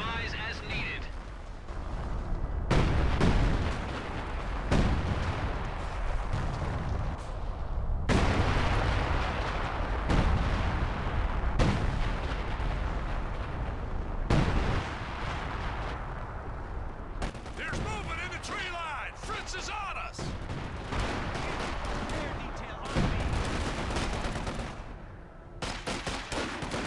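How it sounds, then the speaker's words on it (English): Enemy artillery fire in Company of Heroes 2 pounds in repeated heavy booms and rumbling blasts over roughly half a minute, loud and dense, with voices talking over the barrage. "Enemy artillery fire!"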